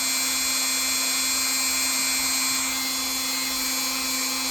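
A rotary tool fitted with a less aggressive rust-removal accessory whines steadily on metal, a constant high motor drone with a strong hum, close and loud throughout without pauses.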